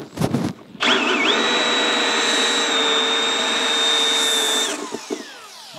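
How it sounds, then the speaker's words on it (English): A unibit step drill bit bores a hole for Infinity Kappa speakers on a Harley-Davidson, one steady, loud whine for about four seconds with a pitch dip as it bites in, between brief handling clatter. "All right, so I'm using a unibit"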